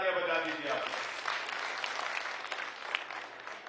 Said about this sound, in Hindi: इनके लिए भी जोरदार तालियां बजा दीजिए आप।